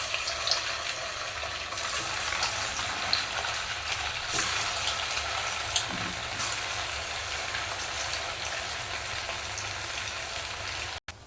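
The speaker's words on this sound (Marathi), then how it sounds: "आता दुसरं सगळे असेच तळून घेते" Medu vada deep-frying in hot oil give a steady, close, bubbling hiss that holds evenly for the whole stretch, cutting off abruptly at the end, with no talking.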